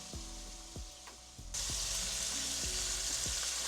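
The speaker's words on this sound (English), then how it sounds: "We're gonna allow this to cook and sizzle about 2 to 3 minutes on each side" Shrimp frying in a pan for honey garlic shrimp, a steady sizzle that jumps louder partway through, with a few soft utensil knocks against the pan along the way.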